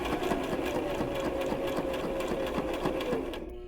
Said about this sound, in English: We're going to sew normally all the way down to the bottom of your fabric.